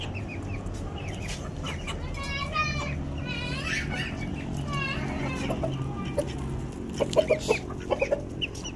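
A hen with small chicks clucks and peeps nearby in a backyard coop, with high chirping bursts over a low background hum and a few sharp clucks near the end, while people talk quietly.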